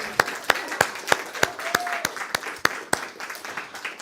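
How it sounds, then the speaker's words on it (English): A church congregation claps together in a slow, steady beat, each crisp clap evenly spaced about three per second, with a brief whistle-like tone sliding through partway. "Let's give Sean a round of applause for that."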